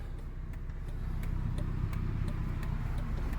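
Regular clicking of hazard lights ticks steadily inside a 2008 Honda Civic LX, evenly spaced clicks over a low idling rumble.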